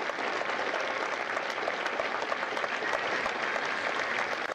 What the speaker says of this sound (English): a round of applause for their dedicated service to Corps and country